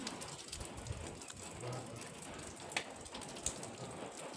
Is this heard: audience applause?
no